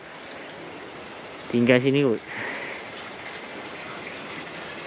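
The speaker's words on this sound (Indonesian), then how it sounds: "Sebab tu anda boleh dengar ini aliran sungai." A river runs steadily behind a cucumber garden at night, a constant soft hiss of flowing water; a person speaks briefly over it.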